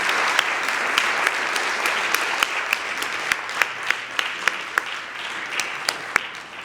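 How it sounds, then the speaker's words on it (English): An evening lecture audience applauds its three speakers after a talk on ancient pigments and painters. Steady clapping from a modest crowd thins toward the end, with a few sharp individual claps standing out. "let us do another round of applause to thank our three speakers this evening."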